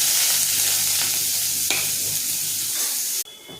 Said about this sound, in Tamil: வெங்காயம், கருவேப்பிலை, ஒரு பச்சை மிளகா நறுக்குனதை போட்டுக்கிறேன்.